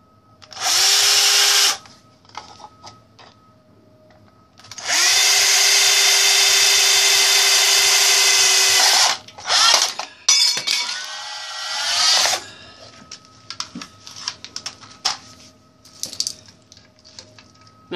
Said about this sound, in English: I'll go ahead and drill a hole in the bottom here.